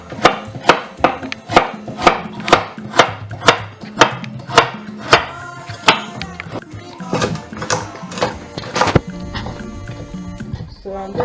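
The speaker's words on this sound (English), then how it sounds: "So I'm just roughly chopping my carrot." A knife roughly chops carrots on a board in a quick, regular series of sharp close thuds, about a dozen evenly spaced strokes, then slower, irregular cuts with a voice talking over them.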